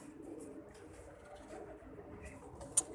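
Soft, low cooing from a young female pigeon murmurs quietly in the background, with a brief sharp click near the end.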